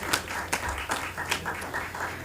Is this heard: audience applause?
yes